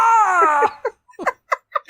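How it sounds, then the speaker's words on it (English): A pet cat lets out a long, loud, drawn-out yowl up close, followed by several short broken cries in an uneven rhythm. "that's what my cat sounds like"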